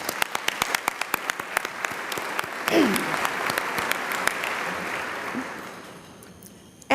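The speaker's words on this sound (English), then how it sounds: "Please join me in one final round of applause for all of our sponsors." An audience at a community breakfast applauds its sponsors, a sustained round of clapping from a large crowd that swells, holds steady, then fades out, heard from within the room.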